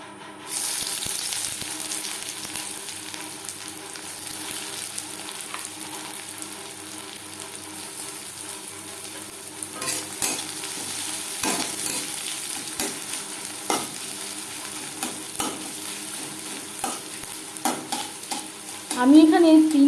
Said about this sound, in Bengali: পেঁয়াজ আমি লালচে করে ভেজে নেব